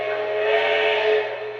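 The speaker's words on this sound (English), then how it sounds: "there's our big boy whistle right there" A Big Boy steam locomotive whistle sounds in one sustained, steady chime-like blast, loud and close, holding for under two seconds before starting to fade.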